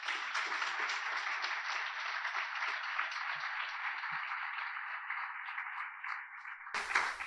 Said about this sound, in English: Again, we want to give Sophie a great UTech Jamaican round of applause.